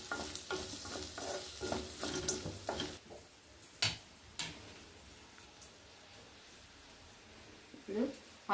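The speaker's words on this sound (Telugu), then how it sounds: "ఇప్పుడు కార్న్ వేస్తున్నాను." Corn kernels are tipped into a hot pan while cooking spinach dish, giving a few clattering stirs and a soft sizzle, then quieter scattered clicks of a spoon against the pan with brief louder scrapes.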